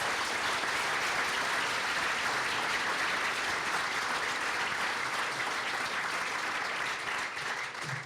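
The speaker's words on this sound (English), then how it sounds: "Ladies and gentlemen, a round of applause for our 2014 Turnaround Achievement Award recipients." Sustained audience applause honoring 2014 Turnaround Achievement Award recipients at an awards ceremony, a dense steady roar of many hands clapping that holds throughout and thins slightly at the very end.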